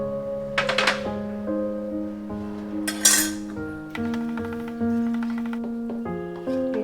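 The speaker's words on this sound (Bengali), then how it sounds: "এটাকে ভালো করে নেড়ে নিতে হবে।" Spiced dhokar dalna is stirred in a pan, a spoon scraping and clinking against the metal in short irregular taps, heard over a steady background hum.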